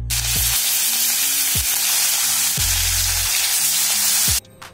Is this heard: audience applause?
no